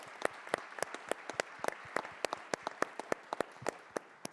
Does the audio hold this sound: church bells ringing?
no